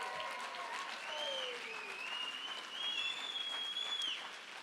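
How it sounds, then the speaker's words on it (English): Applause rises from the crowd at an international auctioneer championship, sustained clapping across the hall, with sharp whistles and cheering cutting through and swelling louder near the end. "Let's give Laura a big round of applause."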